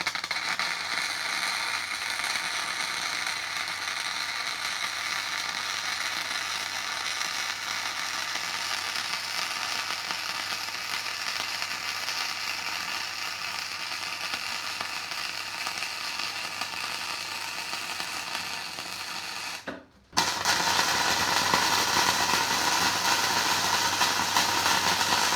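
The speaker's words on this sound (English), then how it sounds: "it's time to start welding all around here" Welding along the seams of an excavator bucket under repair, a steady, loud hissing crackle running continuously for about twenty seconds, cutting out briefly, then resuming.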